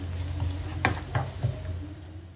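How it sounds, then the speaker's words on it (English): Ginger garlic paste frying in a pan for kheema matar, a soft steady sizzle with a few light scraping stirs, faint and close. "once you can smell that the ginger garlic paste is cooked, then only you carry on to the next step"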